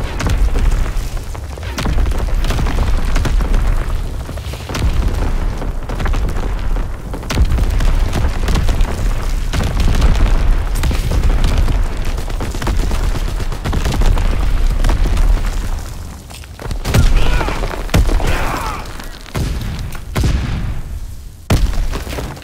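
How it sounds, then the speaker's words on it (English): Enemy mortar artillery fire in Call of Duty: WWII keeps up a continuous heavy rumble of booming explosions, loud and dense, with sharper blasts rising out of it near the end. "Enemy mortar fire incoming!"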